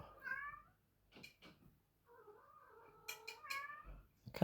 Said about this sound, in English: The cat's really going for it today,